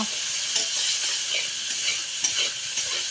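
Onions sizzling in a pan over a wood-fired stove while meat is being cooked, with steady bright frying hiss and intermittent stirring scrapes, close and alone.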